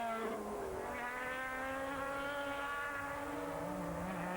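Ferrari 360 and Porsche GT race cars in a 2002 FIA GT race, heard as a steady high-pitched engine whine with rising harmonic tones, fairly distant and continuous, without talk.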